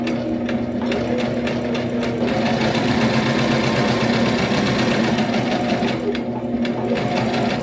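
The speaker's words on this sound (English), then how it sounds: "I think we're gonna go ahead and sew the lining first" A sewing machine stitches the lining of a leather tote bag with a steady, fast mechanical whir and clatter that runs unbroken and close throughout.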